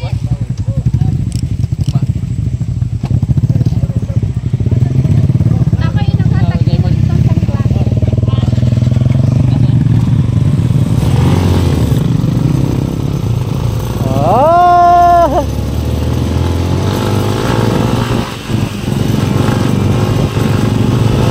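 A Honda CRF250 motorcycle engine drones loudly and continuously with rattling and bumping from a rough, muddy road, while a voice calls out briefly partway through.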